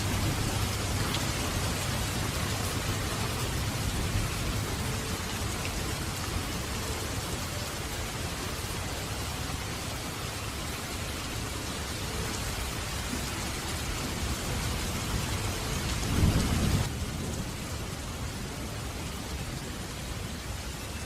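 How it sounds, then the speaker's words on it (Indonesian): Heavy rain pours steadily in a flood scene, a dense, constant wash of downpour with a brief low rumble of thunder near the end, no voices heard. "hujan turun membanjiri bumi"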